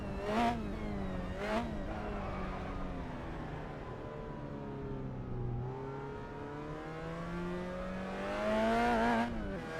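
A 1966 Lotus Cortina race car engine in Assetto Corsa revs and holds a steady drone, its pitch sliding down and climbing again through gear changes, loud and continuous, touching the rev limiter.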